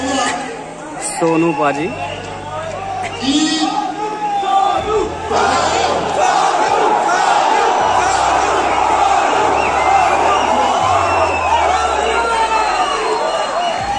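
A packed Roadies 19 audition auditorium in Delhi roars with loud, constant crowd chatter and shouting. Close voices talk over the din.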